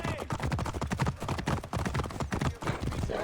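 Horse hooves clip-clop rapidly and steadily in Assassin's Creed Origins, a galloping rhythm of close, moderately quiet thuds running throughout.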